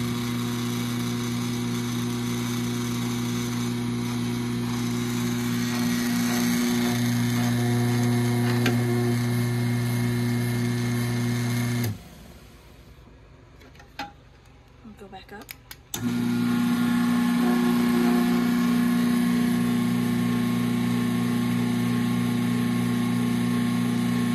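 An uncased 3255M sewing machine runs with a steady mechanical hum and whir, close and fairly loud, stopping for about four seconds midway with a few small clicks before starting up again.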